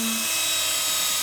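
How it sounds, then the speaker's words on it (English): Power sander working on a dinghy hull, a continuous high-pitched whining buzz, loud and close, running steadily without pause. "Finishing off the sanding."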